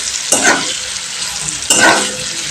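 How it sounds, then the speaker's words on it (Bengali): Vegetables and paneer frying in hot oil in a pan at home while being stirred, a steady close sizzle with two louder scraping bursts of stirring. "এবার আমি একটু ভালো করে নেড়ে নেব।"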